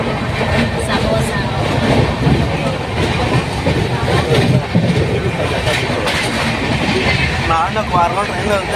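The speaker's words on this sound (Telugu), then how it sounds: "ట్రైన్ ఎక్కేసాం" A passenger train heads toward Nellore, heard from inside a carriage: a steady rumble and rhythmic clatter of wheels on rails runs throughout, loud and continuous, while people talk over it.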